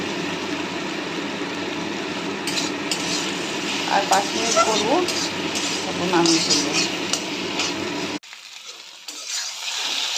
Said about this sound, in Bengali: এবার আস্তে আস্তে কমিয়ে কমিয়ে এটা ভাজবো।